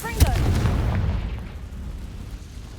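In the Hogwarts Legacy video game, a Confringo fire spell bursts with a sharp, heavy boom that rolls into a rumbling, fading explosion tail. A voice is heard at the moment of impact.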